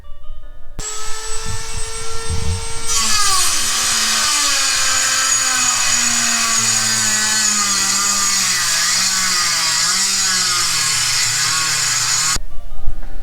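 A power tool trimming an aluminum bracket during a nitrous install on a 2018 Mustang GT: a loud whining motor spins up, then grinds steadily into the metal with a wavering pitch for about nine seconds before it cuts off.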